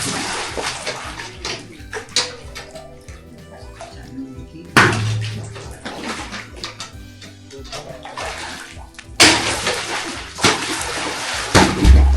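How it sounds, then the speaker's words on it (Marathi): Water splashes and pours in bursts as a vessel is filled from a well during a Sahyadri mountain trek from Sinhgad to Raigad, with steady musical backing underneath. "आता विहिरीजवळ पाणी भरून घेऊया"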